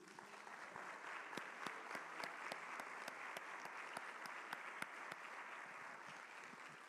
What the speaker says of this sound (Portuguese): Aplaude ao Senhor Jesus.